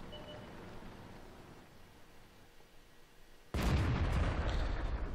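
An SU-100 tank destroyer fires its main gun in the World of Tanks video game: a steady engine rumble gives way to a single sudden, loud, close booming blast that stays heavy and rumbling to the end.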